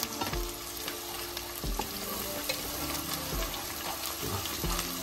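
Onion, garlic and masala fry in a pan for a Pakistani silver hake fish curry, with a steady sizzle and occasional stirring scrapes and clatters, close and continuous with no talking.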